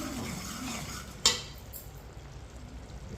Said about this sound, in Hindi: ये देखिए, इसे 1 मिनट के लिए मिक्स करके पका लेंगे।